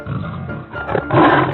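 Cartoon tiger lets out a loud, growling roar that swells toward the end, dense and close, with no talking.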